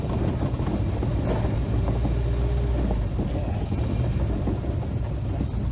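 An Mk3 Scamp engine running on a first drive, a dense, loud, steady rumble with rough mechanical texture throughout, with no clear rise in revs standing out.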